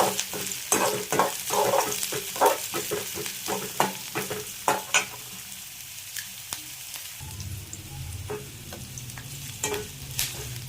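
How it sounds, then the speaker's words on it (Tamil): Curry leaves and green chillies sautéing in a pan give a steady sizzle, with repeated close spatula scrapes and taps that thin out partway through, leaving quieter frying; no one speaks. "கறி லீஃப் போட்டோன்னா கட் பண்ணி வச்சுருக்க பச்சை மிளகாயும் சேர்த்துருக்குறேன். நல்லா வதங்கணும்."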